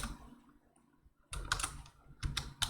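Bursts of typing on a computer keyboard during a live day-trading session, with a quiet pause before two clusters of rapid, close key clicks.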